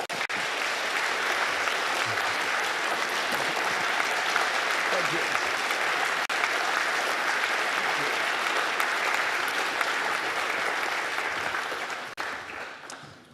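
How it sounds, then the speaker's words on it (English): Sustained, dense applause from a large summit audience honouring a Nobel chemistry laureate, steady and loud for over ten seconds before tapering off at the very end. "please join me in giving Nobel Prize winner in chemistry, Professor Thomas Lindell, one more round of applause."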